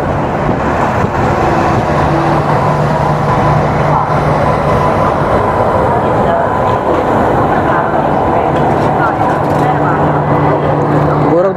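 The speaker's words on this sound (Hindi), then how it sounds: "ट्रेन का डिपार्चर हो रहा है बठिंडा से" The Patalkot Express pulls out of Bathinda station with a loud continuous rumble of wheels and carriages, steady from start to finish, with faint tonal hums and a voice speaking over it.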